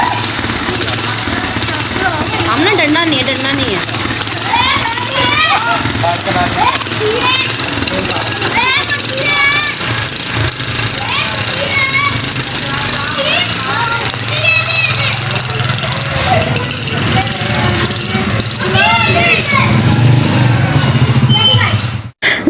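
A motorbike engine runs steadily while a young girl learns to ride it with her uncle. It holds a constant drone beneath loud, overlapping children's voices and chatter, then cuts off at the end.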